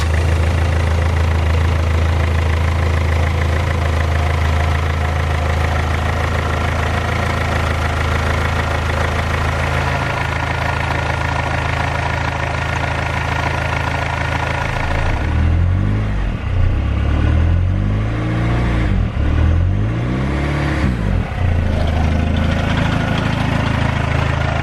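A BMW E46 engine idles steadily with a low, even hum and faint ticking, later joined by several revs that rise and fall in slow waves.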